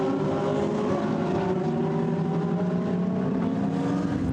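GT race cars speed along the fast Mistral Straight at the Paul Ricard circuit, producing a loud, continuous engine roar with overlapping tones that hold steady throughout.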